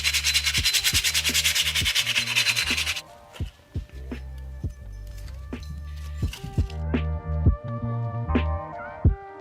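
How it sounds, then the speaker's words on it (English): Motorcycle metal parts scuffed by hand with 80 grit sandpaper: close, loud rhythmic rubbing strokes in quick succession for three seconds, then slower, sparser scraping passes with scattered knocks. "I would start by scuffing these up with 80 grit sandpaper to flatten the metal out"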